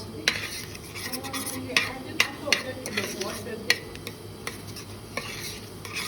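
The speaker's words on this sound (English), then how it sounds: "So that's why I'm stirring it more quickly now, because I want that whole brown to mix into it." Halva browning in a pot is stirred quickly, metal utensil clacking against the pot in irregular sharp knocks over a soft continuous sizzle, close up.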